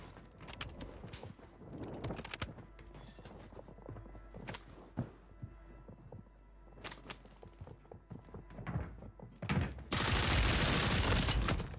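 Gunfire in the Warzone video game, M4 and MP5 loadout: scattered sharp shots and thudding impacts spread irregularly through the stretch, mostly moderate in level, ending in a sustained loud burst of noise.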